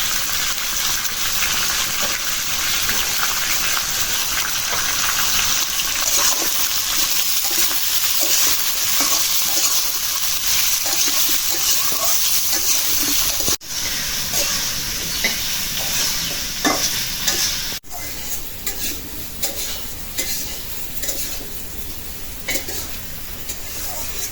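Onion and potatoes fry in a pan with a loud, steady sizzle and crackle. Occasional stirring scrapes sound close by, and the frying continues without a break.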